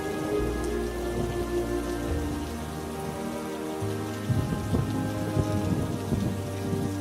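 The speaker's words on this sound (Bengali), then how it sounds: "দেখছো তো কি জোরে জোরে বাজ পড়ছে" Heavy rain pours steadily while low rumbles of thunder roll underneath, mixed with a sustained musical drone.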